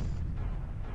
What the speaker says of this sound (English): And the explosion from this dwelling.